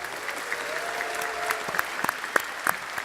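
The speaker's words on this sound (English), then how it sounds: "Let's have a round of applause" Steady applause from a crowd at a gaming convention panel, dense clapping throughout with a few sharper, louder claps standing out near the end.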